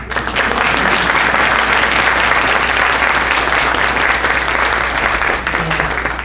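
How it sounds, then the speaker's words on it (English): Steady, loud applause from an audience at a nuclear technology capstone presentation event at a community college, a dense wash of clapping sustained throughout with no speech. "how about a round of applause for that team?"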